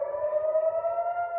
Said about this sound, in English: Within an hour of the strikes, air raid sirens could be heard over Israel.